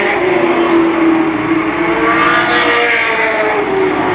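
Legends race cars lapping Columbus Motor Speedway in 1996, a dense, continuous engine roar with rising and falling revs as several cars pass close by, loud throughout.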